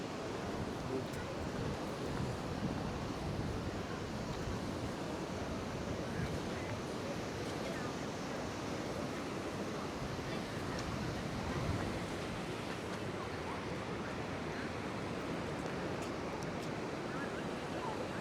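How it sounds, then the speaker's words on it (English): Rough sea waves splash against rocks along the shore at Paguera, Mallorca, a steady broadband roar of surf with wind buffeting, constant and fairly distant throughout. "Just looking at the waves splashing against those rocks over there."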